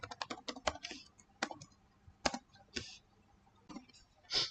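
Typing a git command on a computer keyboard, a quiet irregular run of sharp key clicks with brief pauses and a final burst of keystrokes, close and alone.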